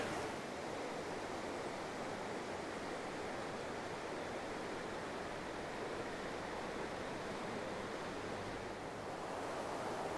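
River near Machu Picchu Pueblo in the mountains, heard from a bridge as a loud, constant broadband rush of flowing water, steady throughout without pauses or talking.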